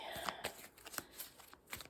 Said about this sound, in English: I shall give these a little shuffle again.